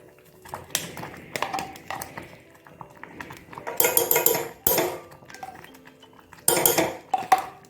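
Thick carrot halva with ghee being stirred in a pan, with metal spoon scrapes and clanks against the pan in irregular bursts, some louder strokes grouped near the middle and end, close and without talk.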